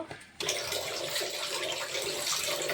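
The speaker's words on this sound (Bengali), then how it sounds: "মেথি শাক, পালং শাক একসঙ্গে ধুয়ে দিচ্ছি।" Fenugreek and spinach leaves being washed under steadily running water, a continuous close splashing rush after a brief quieter start.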